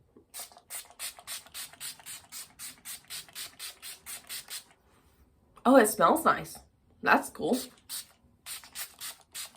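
A run of quick, evenly spaced spray bursts from a Wet & Wild setting spray pump bottle onto a face, about fifteen in a row, followed by people talking briefly.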